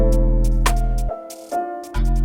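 A percussion sample in a cold melodic UK/NY drill beat gives quick ticking hits over sustained melodic tones and deep bass, which drops out and returns, all close and loud with no talk.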